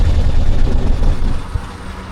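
A 2026 Piaggio Ape Classic auto rickshaw engine pulling, a loud, close, low rumbling drone that holds steady and eases slightly toward the end, with no talking over it.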